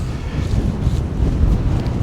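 Strong wind buffets loudly and steadily on the Bwlch Mountain Pass on a brutally cold day, a constant low roaring gust with no other sounds standing out.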